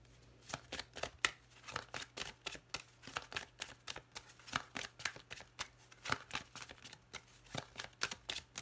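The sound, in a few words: tarot cards being drawn and handled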